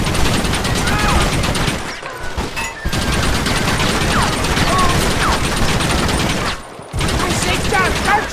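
Dense gunfire rattles through a shootout in the video game Red Dead Redemption, loud and continuous with brief gaps, rapid overlapping shots dominating the mix.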